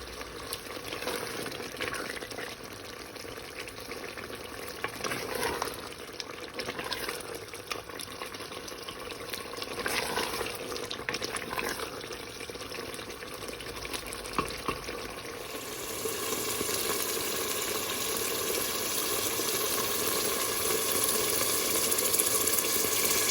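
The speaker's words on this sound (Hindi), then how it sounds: "तब तक हम भूनेंगे जब तक कि ये ऑयल जो है वो इस मसाले से अलहदा ना हो जाए" Mutton liver (kaleji) fries in oil and masala with a steady, close sizzling hiss and occasional stirring scrapes, growing slightly louder toward the end.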